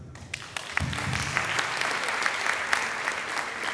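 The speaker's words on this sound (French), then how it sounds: "On applaudit très fort" An audience at a Senegalese reggae awards ceremony applauds steadily, a continuous wash of clapping at moderate volume with no talking.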